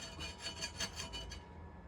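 A knife scrapes the skin off a snake gourd in quick, rhythmic rasping strokes, about eight light scrapes in a row. The sound is faint and close, with no talk.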